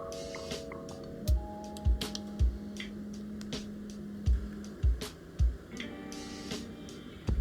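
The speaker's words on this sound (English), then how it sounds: "The remaining 3 screws on the group head we will loosen." Screws loosened on the group head of a DE1 espresso machine, giving a string of close, sharp clicks and thumps with brief ratcheting ticks, spaced irregularly against a quiet background.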